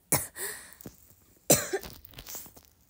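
Two bursts of coughing, the first around the start and a harsher one midway, each trailing off with breathy follow-up sounds, close and fairly loud.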